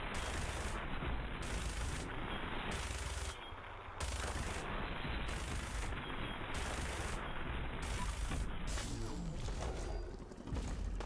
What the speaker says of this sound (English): how quickly the minigun is firing